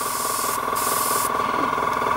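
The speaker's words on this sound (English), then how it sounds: "So this sprays absolutely superbly." A Tamiya HG SuperFine airbrush sprays model paint in a steady, continuous hiss close up, with brief dips and surges in the airflow as the trigger is worked.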